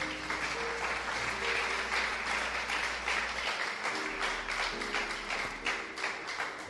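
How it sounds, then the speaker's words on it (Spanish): A congregation applauds at a Yom Teruah service, a dense and sustained round of clapping from many people that fills the room with a low hum beneath it. "¿Cuántos aplauden su nombre?"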